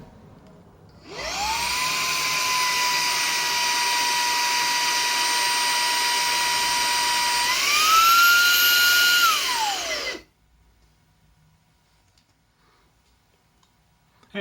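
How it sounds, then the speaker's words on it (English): A portable vacuum cleaner starts up with a rising whine, runs steadily at a loud high-pitched drone, climbs briefly in pitch, then shuts off and spins down to silence. "It's a portable vacuum cleaner."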